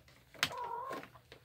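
A cat in heat gives one short, drawn-out yowl, close by and moderately loud, with a sharp sound just before it and no talking.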